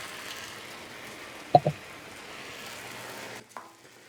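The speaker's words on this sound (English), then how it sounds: "Oh, listen to that sizzle." Bologna slices sizzle on an oiled griddle with a soft, steady hiss, broken by a couple of brief clatters near the middle.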